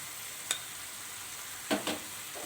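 Onions sauté in a pan for soya chunks manchurian, a soft, even sizzle close by, marked by a single spoon tap and then two quick scraping stirs.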